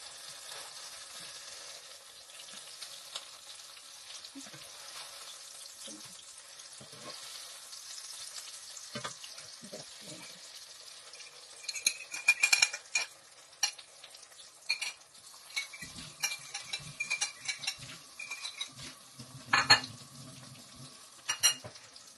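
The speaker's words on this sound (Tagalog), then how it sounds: "So, ginawa ko na siyang tortang talong." Eggplant omelette (tortang talong) frying in a pan, a steady soft sizzle with occasional scrapes and light clinks of a utensil against the pan, growing busier toward the end.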